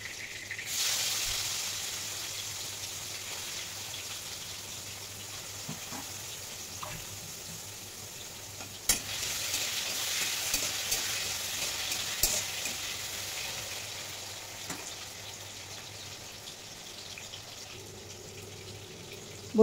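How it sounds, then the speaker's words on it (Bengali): Pointed gourd and potato pieces frying in oil in a kadai produce a steady, moderately quiet sizzle with occasional clinks and pops, swelling slightly partway through. "এই তেলে বন্ধুরা ভেজে নেব পটল,"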